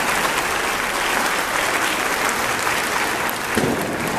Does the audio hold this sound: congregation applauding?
yes